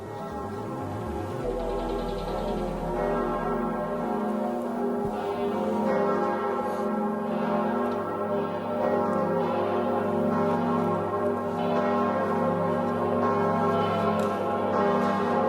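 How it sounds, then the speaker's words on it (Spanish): Church bells peal from the south tower of Notre-Dame de Paris cathedral, rich overlapping tolls ringing continuously and loudly with long resonant hum, no voices. "Y estas campanas que redoblan en la torre sur de la Catedral de Notre Dame"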